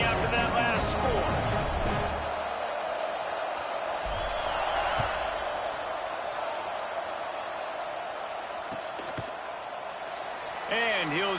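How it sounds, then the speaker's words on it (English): Football stadium crowd buzzing after a score, a broad, steady roar of many voices that fills the space while a commentator talks over it, with a few sharper whoops near the start and end. "this crowd is buzzing after that last score"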